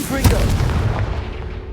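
A Confringo spell in the Hogwarts Legacy video game sets off a booming explosion, a sharp blast followed by a rumbling decay over about a second and a half.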